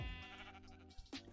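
A sheep bleats in Minecraft, a quiet wavering call among soft game sounds in a brief moment.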